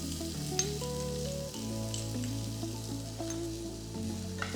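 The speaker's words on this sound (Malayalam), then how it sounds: "ചൂടായ നെയ്യിലേക്ക് 1/2 ടീസ്പൂൺ ജീരകം ചേർക്കാം. ഇതിലേക്ക് ഒരു മീഡിയം സൈസ് സവോള പൊടിയായിട്ട് അരിഞ്ഞതോടെ ചേർക്കാം." Finely chopped medium onion and half a teaspoon of cumin seeds sizzling in hot ghee in a pan, a steady close frying hiss with a faint stir or two partway through.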